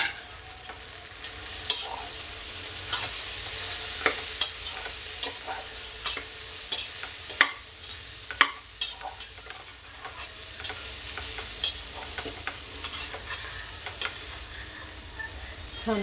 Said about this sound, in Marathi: आपला मसाला परतला गेलेला आहे